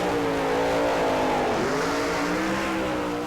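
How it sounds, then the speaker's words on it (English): Drag racing funny cars at a 1995 Santa Pod event doing smoky burnouts, a loud continuous engine roar with rising and dipping revs, heavy and close, filling the whole moment with no pause. "Smoky burnouts from these funny cars."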